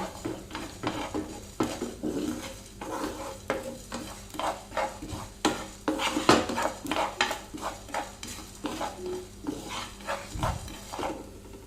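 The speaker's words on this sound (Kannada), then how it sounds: "ಈಗ ಅದಕ್ಕೆ ಒಂದು ಟೀ ಸ್ಪೂನು ಜೀರಿಗೆ ಹಾಕ್ತೇನೆ ಜೀರಿಗೆ ಬೇಗನೆ ಫ್ರೈ ಆಗ್ತದೆ" Cumin seeds frying in a pan alongside coriander, with a utensil repeatedly stirring and scraping the metal pan in an uneven rhythm, metallic clinks standing out over a low sizzle, close up and with no voices.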